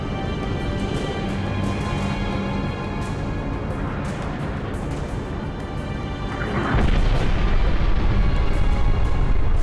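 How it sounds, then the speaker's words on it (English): An orbital defense cannon fires in Halo: Reach: a low, steady rumble builds for several seconds, then a sudden loud, heavy blast hits and keeps booming to the end. "Orbital defense is standing by to take the shot."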